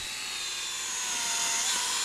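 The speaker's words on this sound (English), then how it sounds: "Star drills holes every 24 inches." A power drill bores holes through glued 2x6 wood planks with a steady, high, whining grind that is close and continuous and rises slightly in pitch.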